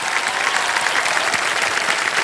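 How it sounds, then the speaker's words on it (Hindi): A studio audience claps loudly and steadily on a televised quiz show, a dense, even wash of applause with no voices over it. "एक बार जोरदार तालियां बज जाएं।"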